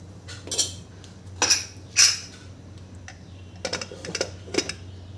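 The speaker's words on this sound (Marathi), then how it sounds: "मी कुकरला झाकण लावून दिलेलं आहे" Several sharp metallic clinks and clatters of a lid being handled and fitted onto a metal pressure cooker holding dal khichdi, in short bursts with pauses.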